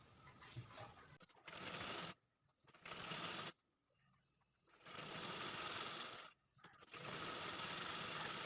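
A sewing machine stitches the sleeve onto a lined blouse in several bursts of rapid whirring, each lasting about a second or more, separated by short quiet pauses, close and clear.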